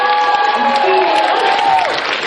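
Audience at an anime convention applauds at a hotel venue, a dense, steady wash of clapping and crowd noise with some voices and whistle-like tones mixed in, sustained loudly throughout.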